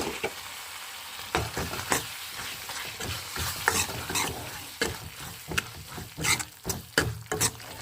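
A spoon scrapes and stirs tomato curry with chili powder in a frying pan, giving repeated irregular clacks and scrapes over a low sizzle, close and clear.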